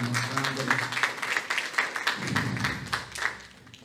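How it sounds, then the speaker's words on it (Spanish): A church congregation bursts into applause, dense clapping from many hands filling the room and carrying on steadily before fading at the end. "Démosle un aplauso a Él que nos da tantas oportunidades."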